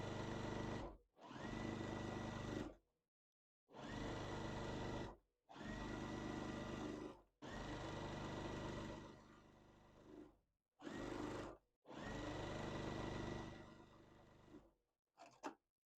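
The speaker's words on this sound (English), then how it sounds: "I'm going to sew the same square right here." Sewing machine stitching a quilt block square, running in several loud bursts of steady whirring, each lasting one to two seconds, separated by short silent pauses, with no talking.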